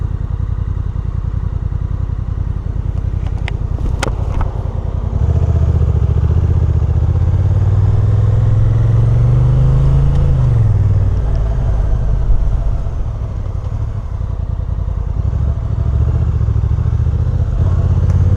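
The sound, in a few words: Honda NT1100 DCT motorcycle riding in traffic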